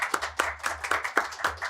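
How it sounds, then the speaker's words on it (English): A few people clap for a speaker at a talk on regulating AI-assisted decisions, producing sparse, distinct handclaps at a slow, uneven pace that stay faint and close throughout. "I would like again to thank and to ask for an applause to Umang Bhatt."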